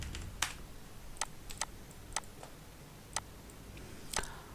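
Keys clack on a computer keyboard as text is typed in a graphics program, sparse irregular clicks spaced a second or so apart over a low steady hum, close and fairly quiet.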